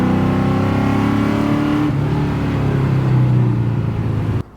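An LS-swapped BMW E36 accelerating hard, its V8 engine note rising steadily in a loud, continuous roar with a brief shift midway before climbing again, then cutting off abruptly at the end.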